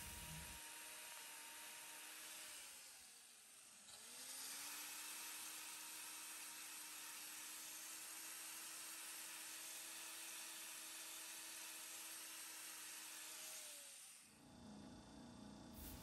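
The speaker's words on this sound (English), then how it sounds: "I'm gonna use my grinder. I'm gonna thin this down a little bit." Steady, high whirring power grinder trimming a cow's cracked heel claw, running continuously and close for most of the stretch, with pitch dips as it loads and ends.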